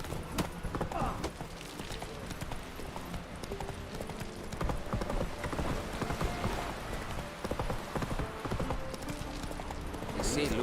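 Roach the horse galloping in the Witcher 3 video game, rapid rhythmic clip-clop hoofbeats throughout, moderately close, with game dialogue and a streamer's talk over it.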